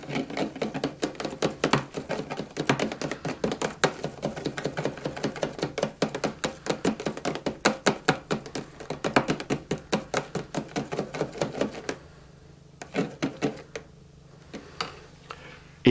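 A homemade soap-bubble liquid is stirred briskly in a container, producing rapid, dense clicking and tapping for about twelve seconds before it slows to a few scattered taps near the end.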